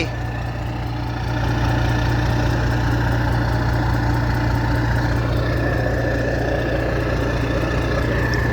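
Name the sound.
engine idling through newly fitted S-type exhaust tip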